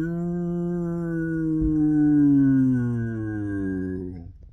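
A puppy howls alone in one long, close, rising-and-falling wail lasting several seconds, then breaks off abruptly at the end.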